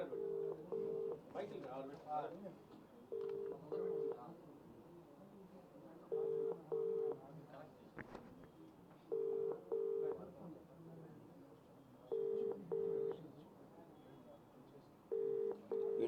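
Phone call being dialed: paired electronic keypad beeps in short repeated bursts every few seconds, fairly quiet, under someone talking steadily.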